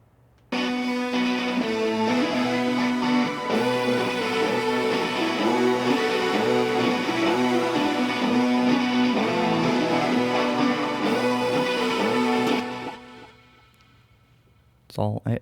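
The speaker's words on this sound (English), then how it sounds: "And then combining that with all these keyboards, sounds like this." Layered electric guitars blend with atmospheric keyboards in a studio mix, starting suddenly and holding a full, steady, sustained wash of chords for about twelve seconds before fading out, followed by a short final burst.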